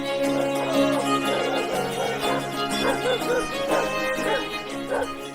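A pack of specially bred hunting dogs bark, yip and whimper excitedly out in the countryside during a rabbit hunt, their overlapping calls continuous and fairly close throughout, with musical or voice-like tones underneath.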